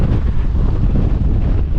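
Strong, steady wind buffeting the microphone on the Beinn Eighe mountain summit in the Scottish Highlands, a loud continuous low roar with no gaps and no voices.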